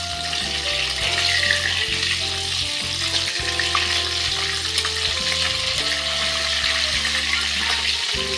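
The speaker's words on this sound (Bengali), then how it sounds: "মুড়োগুলি খুব ভালোভাবে ভাজা হয়ে গেছে। এখন আমরা এগুলিকে খুন্তির সাহায্যে একটু ভেঙে দেবো।" Hilsa fish heads fry steadily in hot oil in a pan while a spatula breaks them apart, giving a continuous close sizzle over a low, droning tonal background.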